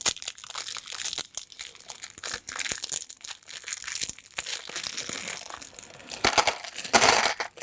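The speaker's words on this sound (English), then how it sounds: "I know the crinkling of plastic sounds awful" Plastic packaging crinkles and crackles steadily while a Circuitmess Wheelson robot kit is unpacked, close and fairly loud, with a denser, brighter burst of rustling near the end.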